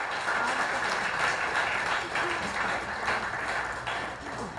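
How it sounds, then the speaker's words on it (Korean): A hall audience at a Korea–Kyrgyzstan exchange committee anniversary ceremony claps in a steady, dense wash of applause that holds throughout and eases slightly near the end. "더 힘찬 박수로 축하해 주십시오."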